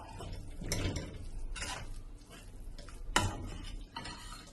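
A spoon stirs turmeric and chili powder into a green peas curry, scraping and sizzling in the pan with a few sharp clicks against the vessel, loud and close.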